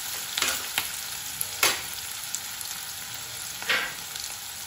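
Chopped onions fry in hot oil for a Bengali mola fish and eggplant mustard curry, giving a steady close sizzle broken by a few sharp spatula scrapes and stirs.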